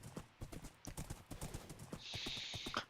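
Horse hooves clip-clop in a steady rhythm through a video game, close and clear, joined near the end by a brief hiss.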